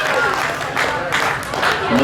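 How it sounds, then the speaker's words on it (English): Audience applause at a stage fair show, a dense wash of clapping with a few swelling bursts, mixed with a voice talking over it. "Give a round of applause."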